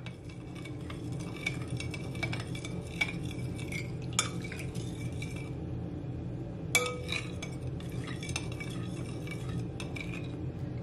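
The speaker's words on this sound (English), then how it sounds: "Gonna give it a stir." A utensil stirs and tosses seafood chow mein with seasoning in a pan, producing repeated metallic clinks and scraping against the pan over a soft frying hiss, close and continuous without talk.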